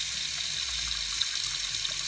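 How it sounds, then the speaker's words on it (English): Hot water running steadily from a tap while a toilet fill valve tube is being fitted, a continuous broadband hiss of flowing water at moderate level with no talking. "I'm going to run it under hot water per the recommendations"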